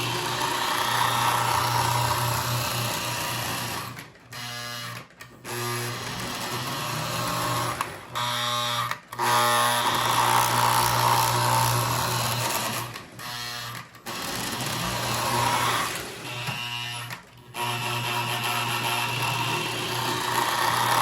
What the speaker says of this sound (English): I never really had a chassis and motor that was this noisy before.